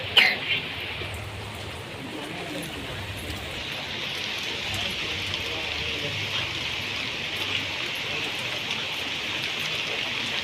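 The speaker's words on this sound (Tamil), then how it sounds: "மழை பெய்யுது இருக்கா" Light rain falling steadily in Veppampattu village, a soft continuous hiss of drops that stays even and unbroken for the whole stretch, with no clear talk over it.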